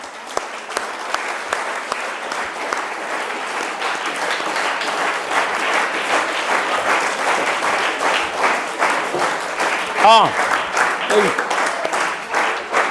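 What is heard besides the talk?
audience applause for madam at debate ceremony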